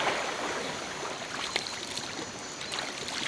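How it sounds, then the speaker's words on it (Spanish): Soft watery splashing and trickling from someone bathing in the Amazon river, a steady close wash of water with a few small splashes, no talk. "Y básicamente esto es bañarse en el Amazonas"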